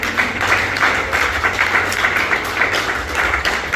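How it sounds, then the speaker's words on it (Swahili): A church congregation at a morning revival service claps together in praise to God, brisk overlapping hand claps in a steady, continuous patter filling the room. "Ainuke tupigie Mungu makofi."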